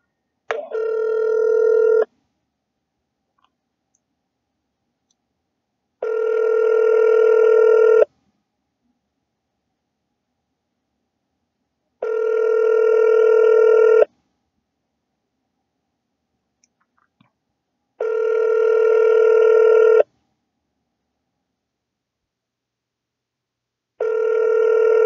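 Telephone ringback tone on an outgoing call, five evenly spaced two-second rings separated by about four seconds of silence, loud and clear with no talking.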